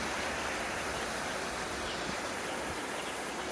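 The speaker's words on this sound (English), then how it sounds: "I'm trying to capture the free flow of the water there" Water from a drainage outlet spills as a small waterfall, producing a soft, steady rushing wash that stays faint and unbroken, with no one speaking.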